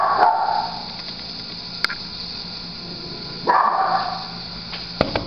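A dog gives two short barks a few seconds apart, with faint clicks and a steady high hiss in the background.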